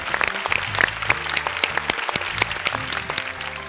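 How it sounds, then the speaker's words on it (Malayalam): An audience gives a round of applause to an orchestra at a singing show, a dense, even wash of many hands clapping at a moderate distance with no talking. "വലിയൊരു കയ്യടി നമ്മുടെ ഓർക്കസ്ട്രക്ക്"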